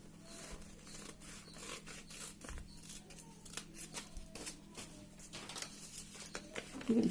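Scissors snip through folded paper while shaping a paper poinsettia flower, a quiet run of rapid crisp cuts and rustles, close by and fairly soft.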